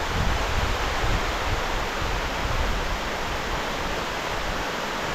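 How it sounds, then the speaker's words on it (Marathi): Steady rain and water rushing down the mountainside at Bedse waterfall in Maval, Maharashtra form a constant broadband roar, full and unbroken throughout, with no voices. "परंतु हा वाहतं पाणी आहे जे त्यांना 3-4 महिने मिळू शकतं. ते वरनं डोंगरावरून वाहत येतं सगळं."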